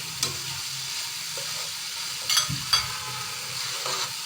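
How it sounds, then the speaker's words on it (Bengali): Fried bananas are stirred and sautéed in a spice paste in a pan, giving a faint, steady sizzle with a few louder scraping clanks of the spoon, with no voices. "দিয়ে কলাগুলো দিয়েও কষিয়ে নেব।"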